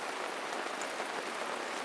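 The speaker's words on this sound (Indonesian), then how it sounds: "Kondisi cuaca masih hujan gerimis, suhu tercatat sekitar 24 derajat Celcius." Light drizzling rain falls steadily at a family campsite in Pangalengan, a soft continuous patter with no voices, close and even throughout.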